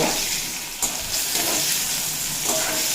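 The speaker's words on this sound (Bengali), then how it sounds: "ভেজে নেব" Bottle gourd pieces fry in oil with a pinch of salt while being stirred, a strong, steady sizzle with occasional scraping bursts from the spoon, close and without talk.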